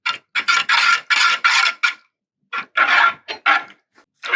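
A spoon stirs Jell-O mix in a cup, giving close, rhythmic scraping strokes in quick bursts, then a short pause and another uneven run of scrapes.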